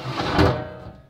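A lid is set onto a large pot of vegetable biryani made with 26 kg of ponni rice, giving one dull, close thunk with a short ringing tail.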